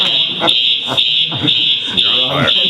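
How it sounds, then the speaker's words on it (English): A building fire alarm system under test sounds a loud, steady high-pitched tone that pulses about twice a second, while people talk over it. "I think that's our final fire alarm system test for the agency"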